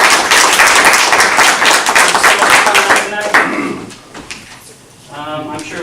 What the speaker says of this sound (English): Can we just have one more round of applause for the wonderful